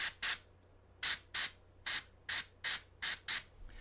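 An airbrush sprays paint glaze onto a sculpted face in a series of short, hissing bursts, about ten evenly spaced puffs close to the mic, with quiet pauses between them and no talking.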